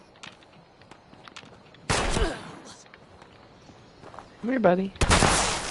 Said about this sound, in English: It's a pipe rifle.